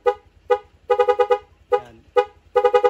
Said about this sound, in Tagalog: Press muna natin yung ating busina.